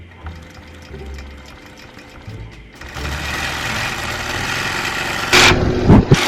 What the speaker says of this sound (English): It does a locking stitch, goes forward to the next area.